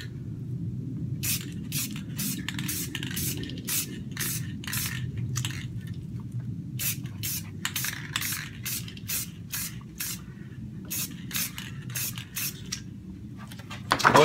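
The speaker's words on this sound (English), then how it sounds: "I take a piece of paper, curve it into the shape, and I spray it on the paper" Short bursts of spray paint hiss in quick succession onto curved paper, some in rapid runs, over a low background hum.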